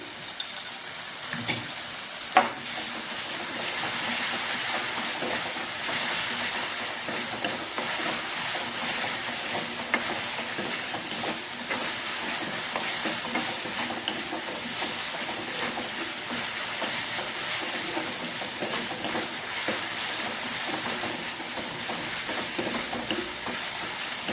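Ginger-garlic paste fries in a pan while being stirred, for a green onion and papad sabji: a continuous close sizzle and hiss with scraping stir strokes throughout, no voices.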